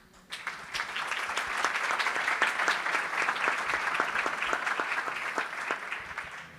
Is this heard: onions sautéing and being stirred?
no